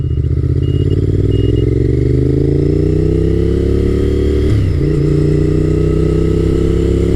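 A customized, lowered Honda VTR1000 F SuperHawk (Firestorm) V-twin motorcycle engine drones loudly and steadily up close, its pitch rising through a rev and then settling back, with no voices.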